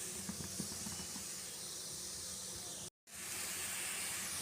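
Broccoli frying in a pan gives a steady, close sizzling hiss that runs almost without a break, cut off only by a brief silent gap near the end.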